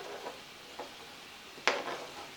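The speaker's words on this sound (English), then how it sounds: "Let them go ahead and start sauteing a little bit." Onions added to browning meat in a skillet sauté with a faint, quiet sizzle, joined by a few soft scrapes and one brief sharper clack.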